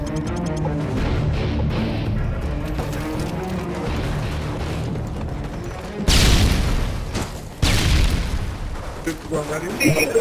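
A grenade explodes in Modern Warfare 2 with a loud, close boom around the six-second mark and a second blast soon after, over busy game noise and gunfire while people talk.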